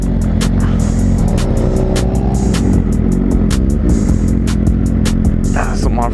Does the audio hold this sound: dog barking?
no